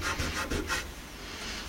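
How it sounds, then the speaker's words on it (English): Hand sanding a wood piece along the grain: four or five brisk rasping strokes up close, then a softer steady scrape trailing off. "when you're sanding by hand, I always go with the grain"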